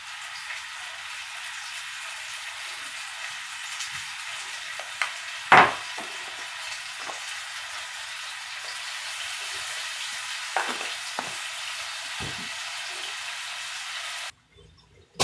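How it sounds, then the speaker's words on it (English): Beef sizzles steadily in a hot pan for pot roast, a constant crackling hiss with occasional louder pops and clinks, then cuts off abruptly at the end. "That's the sizzle you're looking for."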